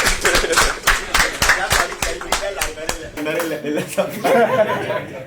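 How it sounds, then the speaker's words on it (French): Scattered applause at a film press conference, a run of sharp hand claps close by with chuckles and talking mixed in. "Ça s'applaudit."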